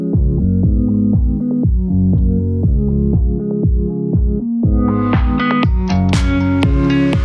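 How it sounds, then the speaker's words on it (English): Music muffled by a low-pass filter for an underwater effect, the dull low-end version giving way to a brighter, fuller sound partway through, loud and steady with no talking. "that muffled audio effect that you hear in intense moments of TV shows and films"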